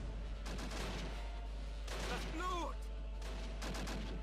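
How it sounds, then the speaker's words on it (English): Heavy machine gun fire in Close Combat Last Stand Arnhem, a wartime video game, repeated bursts of shots over a constant low hum, with a voice and whistling tones in the middle. "now we're opening fire with the heavy machine gun there"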